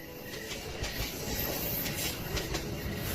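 A train at a railway platform gives off a continuous low rolling rumble with a soft hiss. It stays faint and steady, with no voices.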